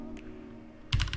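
A command is typed on a computer keyboard: a brief soft tap, then a quick close burst of several keystrokes near the end.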